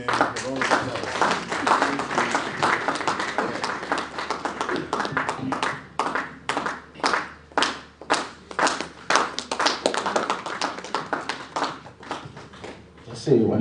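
Clapping for sponsors at a Project Management Institute annual conference starts as a dense round of applause over talk and murmuring, then thins into a few people's slower, distinct rhythmic claps that carry on for several seconds.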